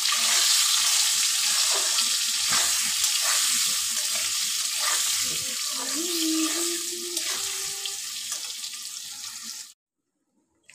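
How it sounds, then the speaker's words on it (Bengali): Potato pieces fry with salt, turmeric and a garlic clove in a pan, giving a loud, continuous broadband sizzle with a faint tonal hum partway through, before cutting off abruptly into near silence at the end. "আলুটা একটু নুন হলুদ দিয়ে আমি ভালো করে লাল করে ভেজে নেব"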